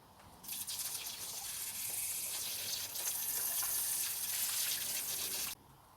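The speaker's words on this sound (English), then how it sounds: "So all we need to do is just fill them with water." Water pouring steadily into plant watering globes, a close, continuous rushing gush that starts abruptly, runs for about five seconds and then cuts off.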